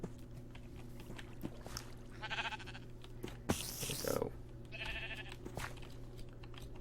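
Sheep bleat on a hillside in Minecraft's FTB Infinity modpack, a couple of short nasal calls over steady game ambience, with keyboard clicking and a voice speaking briefly.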